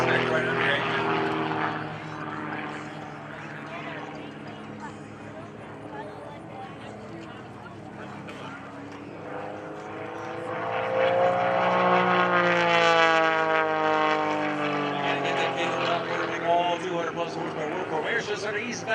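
Propeller aerobatic airplane tumbling across the sky at the 2013 New Garden Airshow, a steady engine drone rising and falling in pitch as it maneuvers, growing louder partway through, with a voice talking over it.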